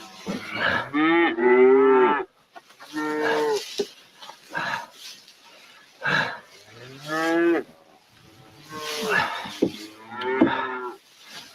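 Cattle on a farm moo before being fed grain: a series of loud, drawn-out lowing calls from several animals, coming close together with short quiet gaps between them.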